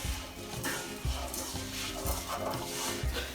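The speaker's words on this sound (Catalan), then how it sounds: "ara el que fem és barrejar-lo bé perquè s'engreixi amb el que hem dit, de la mantega, l'oli i la ceba" Risotto rice stirred in a pan with butter, oil and onion, a gentle sizzle under repeated scraping strokes of the spoon every half second or so, close and moderately loud.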